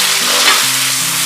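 Shiitake mushrooms stir-fried with garlic and red chili in hot oil in a wok, giving a steady sizzle with stirring scrapes throughout, close up and with no talking.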